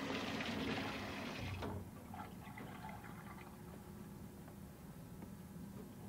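Water being stirred into thick pottery glaze in a container, a wet sloshing and trickling that is loudest at the start and settles into softer, steady liquid movement.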